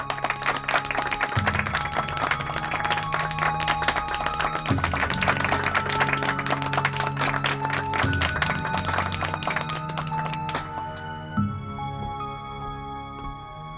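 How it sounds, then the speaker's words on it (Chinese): A crowd of people claps steadily and densely at a company shareholders' gathering, with a musical score playing beneath; the clapping thins out and fades near the end. "鼓掌！"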